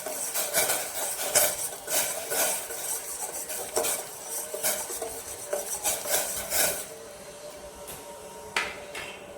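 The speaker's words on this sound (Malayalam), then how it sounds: "ഇത് സ്റ്റീം കൂട്ടിയിട്ട് ഒന്ന് ഇളക്കി കൊടുക്കുക." Masala tea being stirred in a steel pot as sugar goes in, with repeated close metallic scraping and clinking of a spoon against the pan over a steady hiss of boiling liquid.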